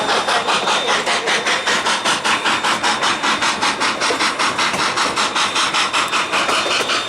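Cumbres & Toltec scenic railroad train grinding along the track near Chama, New Mexico, a loud steady metallic scraping with a fast repeating beat and no voices.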